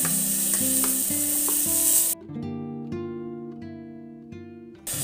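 Spices hit hot oil for a chicken baby food dish, giving a loud, hissing sizzle for about two seconds before it cuts off. Steady melodic background music plays throughout.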